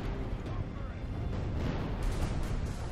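Mortar artillery fires in the Medieval 2 Total War strategy game, a dense, continuous low rumble of battle with muffled booms running steadily throughout, with no clear isolated shots standing out.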